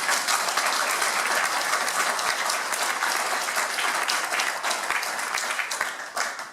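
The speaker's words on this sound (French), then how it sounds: "Peut-être qu'on peut l'applaudir une nouvelle fois." Sustained applause from an audience at a public meeting in Châteaudun fills the room, a dense even wash of many hands clapping that fades slightly near the end.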